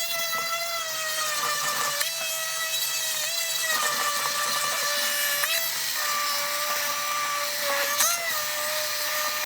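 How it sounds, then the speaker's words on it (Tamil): A blender whirs steadily through herbal hair growth shampoo ingredients, a close, continuous high-pitched motor whine whose pitch dips and shifts a few times as the load changes. "நல்லா மிக்ஸ் பண்ணிவிட்டு இதுமாரி பிளெண்ட் பண்ணிக்கோங்க"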